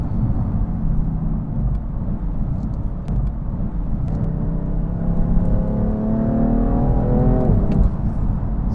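A BMW F80 M3 Competition Package engine accelerates hard from inside the car, its rising drone climbing in pitch through gear changes over loud, constant road and cabin rumble.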